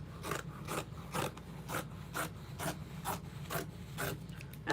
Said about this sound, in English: I'm gonna go ahead and cut out the straps